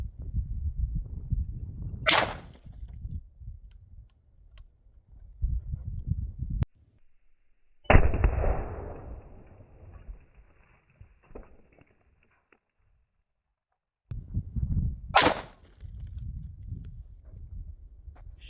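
5.56 AAC 75 grain Sabre Blade black tip rifle rounds are fired outdoors, with two sharp, loud cracks well apart and a separate burst of noise that decays in between, set against low background rumble.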